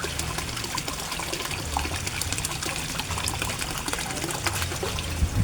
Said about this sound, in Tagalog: Tingnan nyo ang submersible pump ko guys, Ang lakas-lakas niya guys